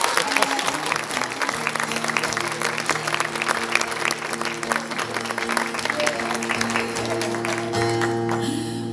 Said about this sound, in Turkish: Bir alkış yapsanız belki